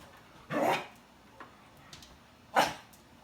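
Two sharp dog barks ring out close by, a couple of seconds apart, with faint small noises in between.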